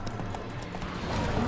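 Horse hooves clip-clopping at a run in The Witcher 3, a steady rhythmic gallop close by over a dense, continuous game soundscape, with no talking during it.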